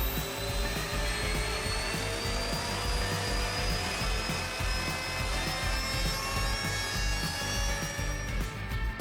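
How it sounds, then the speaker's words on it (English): An electric ducted fan jet engine runs at high power as a PC cooling fan, a loud, steady whine with rising and falling tonal lines over a broad rushing roar, unbroken throughout. "I decided to run all of the benchmarks with a jet engine fan at varying power outputs."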